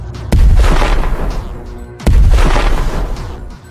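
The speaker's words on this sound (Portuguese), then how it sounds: "Ele foi muito ágil, deu 2 tiros em direção do bicho." Two loud gunshots ring out about two seconds apart, each a sharp boom with a rumbling tail, fired at a creature beside a guard booth at night.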